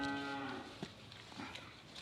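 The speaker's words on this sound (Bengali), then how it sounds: "বকনা বাছুর" A large heifer calf of about twelve months gives a short, low moo at the start, moderately close, before fading into faint outdoor farmyard ambience.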